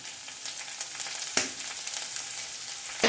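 A pinch of asafoetida hits hot oil in a pan, giving a short, close, steady hiss of frying with a couple of sharp crackling bursts and no talking.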